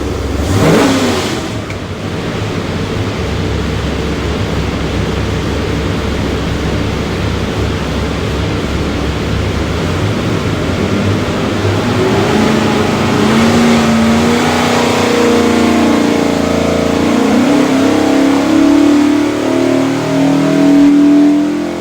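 A 525 hp 427ci Ford engine roars on a dyno during a full test pull, a loud, sustained rumble that builds steadily in pitch as the revs climb across the run.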